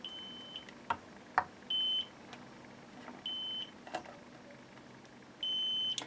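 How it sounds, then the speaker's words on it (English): A continuity tester gives four steady electronic beeps, each lasting about half a second, separated by quiet gaps with light clicks and handling noise, while checking wiring on a Watkins Rapier 33 guitar. "you can hear it beeping that there is continuity"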